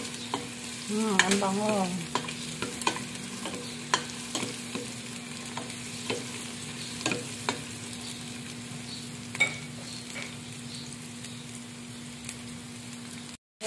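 Onion and garlic sauté in a pan for Mongolian barbecue, with a spatula scraping and stirring in scattered strokes over a low sizzle and a steady hum. A voice speaks briefly early on.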